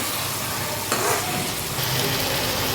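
Stuffed capsicum filling stirred in a hot pan with coriander powder, red chili powder, Maggi masala and garam masala, giving a loud, steady sizzle with scraping, close and continuous.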